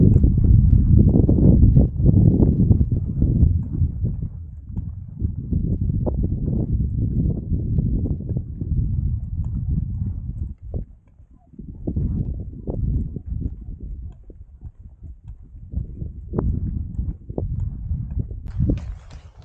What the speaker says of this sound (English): Every mare's got a foal.